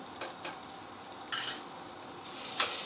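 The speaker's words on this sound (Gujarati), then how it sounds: "પછી આપણે આવી રીતે હલાવી દેવાનું" A spoon scrapes and clanks against a pot while chilli powder is stirred into a drumstick and potato curry, with a few sharp metallic knocks spaced apart over a soft, steady background, and no voices.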